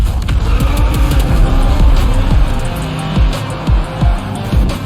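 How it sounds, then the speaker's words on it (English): A car in the Volkswagen virtual racing sim game revs hard as the throttle is pushed, a loud, continuous engine roar with repeated rising surges and a few short bursts, with no voices present. "I could push that pedal and make that engine sing"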